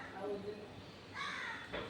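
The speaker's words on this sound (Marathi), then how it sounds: "कावळे आवाज करतात ना" A couple of harsh crow caws sound at moderate distance, brief and separated, with faint speech-like background.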